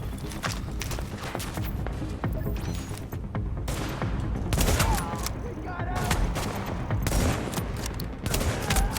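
Rapid bursts of gunfire in The Division video game, loud dense shots in quick succession that keep going throughout, with brief pauses between volleys.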